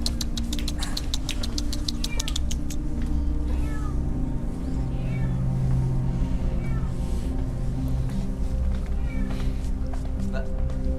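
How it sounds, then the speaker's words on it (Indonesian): A cat meows repeatedly in an Indonesian drama scene, with loud, drawn-out cries over a steady low background and people talking throughout. "Saya mohon jauhkan kucing itu."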